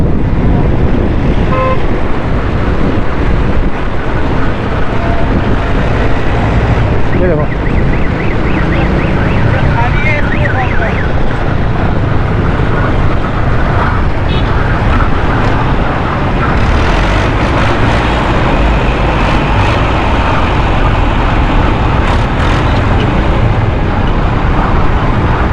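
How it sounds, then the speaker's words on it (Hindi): A tractor trolley without a number plate races fast down a busy road, its loud engine roar and rattle sustained and close throughout, with traffic noise, horns and a voice speaking over it. "वो देखो तेज़ चला रहे हैं ना, इसीलिए जो है ना ये शोर शराबा कर रहे हैं। ट्रैक्टर ट्राली है ये"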